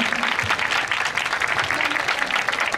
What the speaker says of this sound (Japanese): 盛大な拍手をお願いいたします